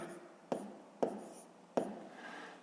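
A pen writes on paper during a fifth-grade maths exercise on fractions, faint close scratching with three sharper taps as strokes begin, set against a quiet room.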